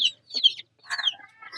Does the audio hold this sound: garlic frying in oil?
no